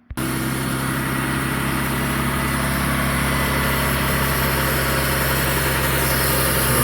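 A 2002 Mitsubishi Eclipse with a 3.0 V6 and a vacuum leak starts and settles into a steady, loud idle, a constant low engine drone with a faint hiss over it and no voices.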